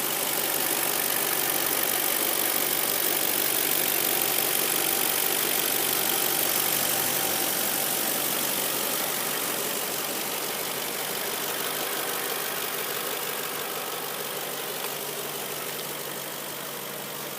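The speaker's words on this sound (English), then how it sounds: "So I'm gonna shut up now and let you listen to the engine." A 2006 Audi engine idles on its own, a steady, even hiss and hum that holds at a constant level for the whole stretch and fades slightly toward the end.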